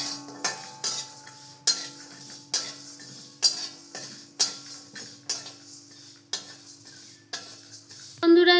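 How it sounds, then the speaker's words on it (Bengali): Spoon stirring spices frying on low heat in a pan for a sweet raw mango pickle made with sugar, a series of regular scraping clinks about once per half second over a faint steady sizzle. "অল্প আঁচে নেড়ে চেড়ে এগুলোকে আমি ভালোভাবে ভেজে নেব।"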